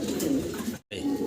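Fancy pigeons coo in a soft, close, low warble that breaks briefly for a moment before resuming.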